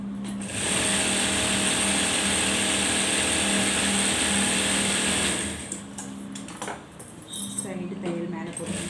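A sewing machine stitches fabric in a steady fast mechanical chatter for about five seconds, close and loud, then stops as a person talks over softer handling sounds.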